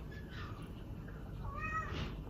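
A cat meows softly twice, two short rising cries about a second apart over a low background hum.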